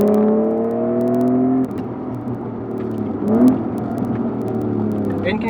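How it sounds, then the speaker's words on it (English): An Acura NSX with a custom AEM exhaust idles with a steady tonal drone, then dips and blips with a short rev rising and falling near the middle, close and fairly loud throughout. "And that sound, custom AEM exhaust doing its job."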